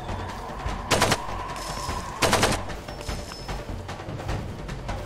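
Gunfire in the Far Cry 2 shooter, two short rapid bursts of shots about a second apart over a steady background rumble, with scattered faint shots afterward.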